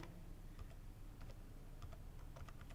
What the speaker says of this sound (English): I'm typing it for you